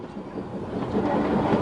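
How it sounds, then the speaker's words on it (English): Industrial steam train of empty wagons labouring up a gradient into a yard, a steady rumbling roll of wheels and rail noise that swells slightly as it nears, with no voices. "yet another train of empties fights upgrade into Roxton Yard"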